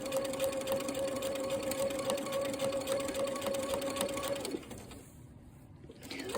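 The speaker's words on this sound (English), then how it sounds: "I'll take a few more stitches, then we can look and see how the corner came out." Sewing machine stitching binding around a quilt corner, a steady close motor whir with rapid needle chatter that stops about two-thirds through, leaving quieter room sound.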